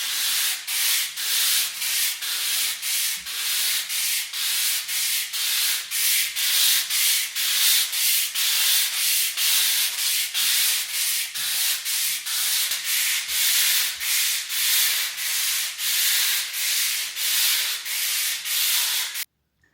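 Plaster filler patches on an interior wall being rubbed down by hand, a loud, close, rhythmic rasping of steady back-and-forth strokes repeating for about twenty seconds with no talk.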